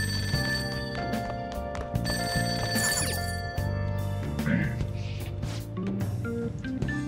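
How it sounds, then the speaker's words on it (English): A telephone rings downstairs in Persona 5, repeated bright bell-like trills over background game music, continuous and fairly loud with no talk. "That's not my phone, is it? It must be coming from downstairs."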